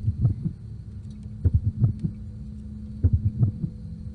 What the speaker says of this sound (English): Scrap Trap has a droning heartbeat.